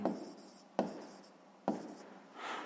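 Pen strokes of a math answer being handwritten, three bursts of scratchy writing separated by brief pauses, close and fairly quiet with no talking.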